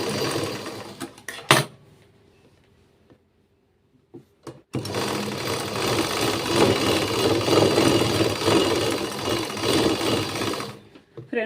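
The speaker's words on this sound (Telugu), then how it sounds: "ఎంత అడావుడిగా కుడుతున్నాను, బ్లౌజ్ సెట్ అవుతుందో లేదో అనుకుంటారేమో" A sewing machine stitches a lined blouse in quick, steady runs. One short burst and a few isolated clicks come first. After a brief pause, a long continuous loud stretch of stitching follows, with no voices.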